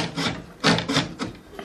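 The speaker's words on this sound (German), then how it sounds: "So, und nun das Sägeblatt. Immer schön gerade führen." A hand saw cuts through a wooden board, giving several close, loud rasping strokes in an uneven back-and-forth rhythm over a brief moment.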